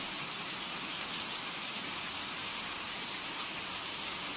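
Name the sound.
rain falling outside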